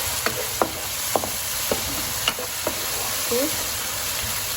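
Chili paste for sotong balado sizzles steadily in a pan, with a series of sharp spatula scrapes and taps as it is stirred; a voice speaks briefly at the start.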